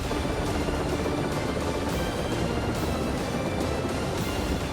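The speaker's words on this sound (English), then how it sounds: "we've got 2 helicopters in the air" Steady droning rotor noise of helicopters overhead, a constant rumbling wash with faint rhythmic beating and no voices.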